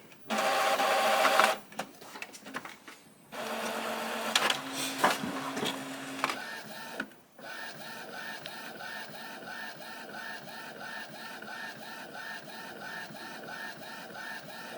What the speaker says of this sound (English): And now we have our next page printing out.